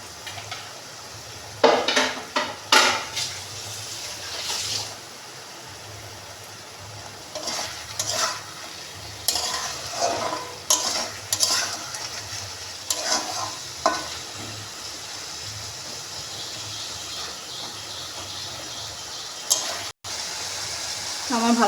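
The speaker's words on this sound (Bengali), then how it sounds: "এবার একটু এটা কষবে হালকা।" Prawns being stirred and lightly fried with onion paste in a pan: soft sizzling under repeated scraping and clinking of a spoon against the metal pot, in irregular bursts, close and fairly quiet.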